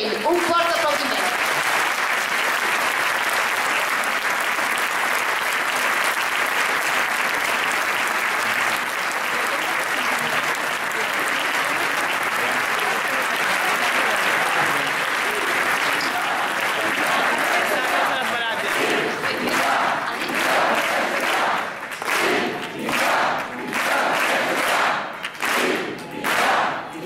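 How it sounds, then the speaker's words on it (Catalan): Strong, continuous applause from a political gathering audience greeting Carme Forcadell in Sants, Barcelona; dense clapping holds steady for a long stretch, then breaks up into more distinct individual claps toward the end. "Un fort aplaudiment."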